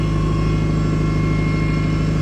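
A Seakeeper M8000 gyro stabilizer runs aboard a motor yacht, giving a steady, close mechanical hum with a constant whine and low rumble and no change in level.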